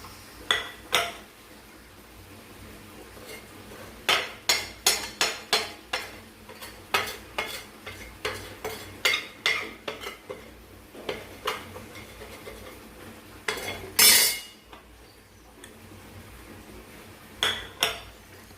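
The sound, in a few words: stirring spice powders into mango pickle in pan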